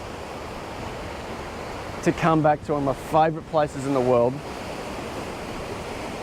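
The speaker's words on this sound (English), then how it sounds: "watch a few waves roll in, crash into the side of the rocks" Ocean waves roll in and crash against rocks on a coast at morning, a steady broad wash of surf with someone speaking over it briefly in the middle.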